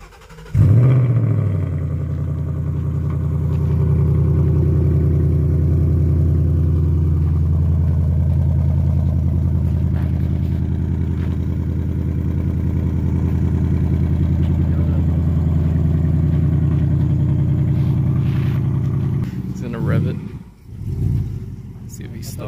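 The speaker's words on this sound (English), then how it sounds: "we're gonna go ahead and do a cold start." A 2020 Ford Mustang GT V8 cranks and fires into a deep, rumbling cold-start idle that holds steady and loud, then blips and revs briefly near the end.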